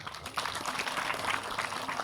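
Audience clapping in welcome for a visiting pandit at a Bhagwat Geeta gathering; dense, steady applause from a crowd, moderately loud and continuous throughout.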